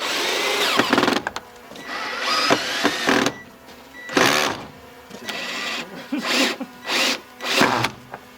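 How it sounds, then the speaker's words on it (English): Power drill driving screws through a Thule 5200 awning into brackets on a Toyota Coaster bus, several close, loud whirring bursts of varying length with short pauses between them. "I am going to add some extra screws going straight through the back of the awning into the brackets"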